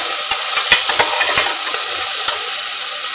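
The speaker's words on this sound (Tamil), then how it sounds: "இதில் கருவேப்பிலை நல்லா 2-3 கிள்ளி போடுங்க" Hand-torn curry leaves drop into hot oil and set off a loud, close sizzle. Sharp crackles and pops burst repeatedly over the hiss, with no voices.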